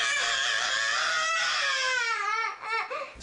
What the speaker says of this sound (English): Screams came much easier than words.